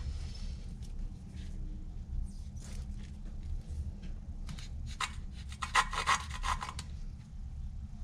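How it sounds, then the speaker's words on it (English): Suction-cup lapper tool spun back and forth between the palms against a Toyota Supra Mk3 engine valve in a cylinder head, a steady close gritty rubbing with bursts of sharper scraping strokes. "you can use this lapper tool, which is just a suction cup, and just push it down and act like you're starting a fire."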